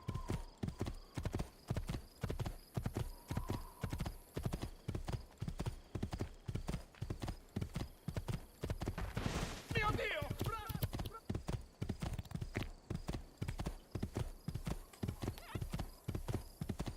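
A horse's hooves clip-clop at a quick, steady pace in Assassin's Creed II. The hoofbeats run unbroken throughout, with a whinny in the middle and voices faintly present underneath.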